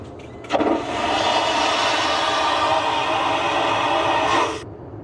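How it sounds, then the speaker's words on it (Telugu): A loud, forceful airplane vacuum toilet flush: a sudden click, then a steady roaring suction lasting about four seconds before cutting off abruptly. "ఫ్లష్ చేయాలంటే ఇదిగోండి పెద్ద సౌండ్ వస్తుంది చూడండి"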